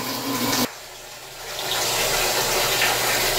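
A top-loading washing machine filling with water: a loud gush cuts off briefly, then a steady rushing stream of water builds back up and continues.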